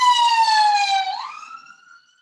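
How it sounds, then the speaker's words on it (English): An ambulance siren heard from inside a flat, a single clear wailing tone that holds, slides upward, then fades away into the distance. "Listen to the ambulance noises from my flat."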